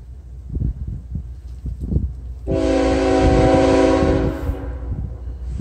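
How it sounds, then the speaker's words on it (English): A southbound CSX mixed manifest freight train rumbles past nearby, its loud, sustained horn blaring for several seconds over the heavy clatter of the cars, then fading off. "Oh, it's a regular freight train"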